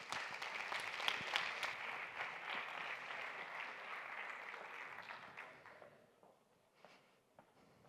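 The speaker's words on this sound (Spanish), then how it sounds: "recibámosla con un fuerte aplauso" Audience applause welcoming a speaker at a university technical conference, a dense steady clapping from a crowd that holds for about five seconds and then thins out to a few scattered claps.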